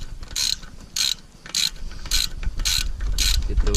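A 3/8-inch drive ratchet works the front brake caliper bolts on a 2013 Dodge Challenger R/T, giving about six close, crisp bursts of rapid clicking in a steady back-and-forth rhythm with short pauses between strokes.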